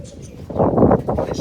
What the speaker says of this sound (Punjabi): ਹੁਣ ਕਬੂਤਰ ਦਿਖਾਵਾਂ